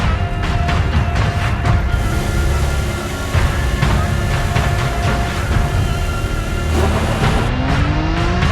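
Formula 1 cars roar away from the start of the Monaco race in the F1 2014 video game, a loud, dense, continuous engine whine with rising revs and overlapping cars throughout.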